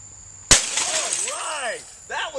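A printer struck with a sledgehammer gives one sudden loud crash of breaking plastic and glass, followed by clattering debris and a second smaller crunch. Voices can be heard in the background.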